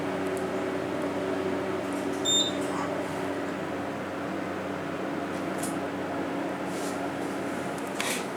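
A Schumacher hydraulic elevator at the Best Western Vermillion Inn in Vermillion, SD running with a steady low motor hum and whir, a brief faint tone and soft clicks over the drone.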